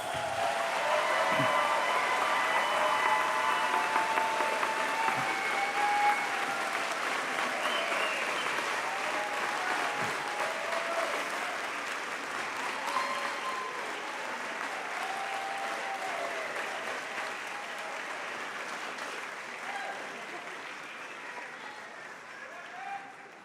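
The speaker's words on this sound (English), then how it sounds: "please turn and face your family and friends and give them a round of applause" A commencement audience of graduates at the Elson S. Floyd College of Medicine ceremony claps for their families and friends, a dense sustained round of applause that holds steady for over twenty seconds and slowly thins toward the end.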